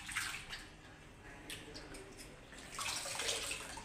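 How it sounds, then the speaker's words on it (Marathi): Water is slowly poured off potato chip slices soaking in alum water, making a faint, uneven trickle and splash that swells near the start and again toward the end. "पाणी हळूहळू काढायचं ह्यातलं"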